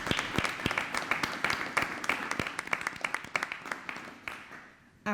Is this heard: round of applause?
yes